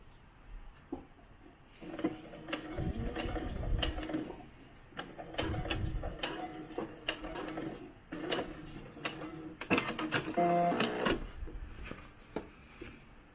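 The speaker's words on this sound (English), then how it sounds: "now we're just going to sew the elastic in place so it doesn't fall out" A sewing machine stitches elastic in place on doll pants, coming in short uneven bursts of ticking, clattering mechanism mixed with handling noises, fairly close and moderate in level.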